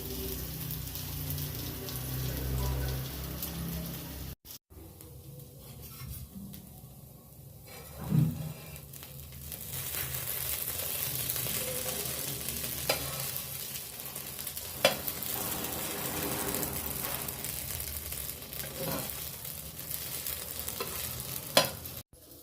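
Sweet corn kernels shallow frying on a flat pan give a steady, close sizzle that runs throughout, with occasional louder pops and scrapes of stirring; no voices.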